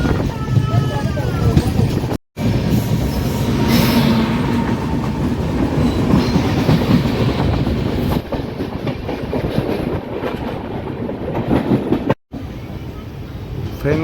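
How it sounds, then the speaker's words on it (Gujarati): A train rolls through the Rajkot railway yard with a loud, continuous rumble and rhythmic clickety-clack of wheels over rail joints, heard from on board, while a person talks over it throughout. "આ જોઈ લ્યો ટ્રેન આખો યાર્ડ છે"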